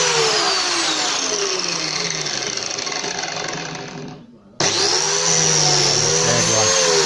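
Erbauer ERB372BJC biscuit jointer whining loudly at full speed while cutting a joint slot, the motor dropping off and cutting out briefly before starting up again at full pitch.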